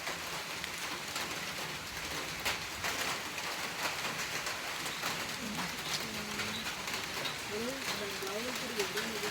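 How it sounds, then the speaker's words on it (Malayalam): Steady rain falls outdoors during an evening walk, a dense, even patter of drops on surfaces that continues throughout, with faint voices and other sounds in the background. "നല്ല മഴ പെയ്തു ഗായ്സ്."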